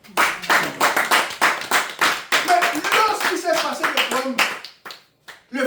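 A church congregation claps in a dense, rhythmic burst of applause at close range, the clapping stopping briefly near the end before a few last claps, with voices mixed in underneath.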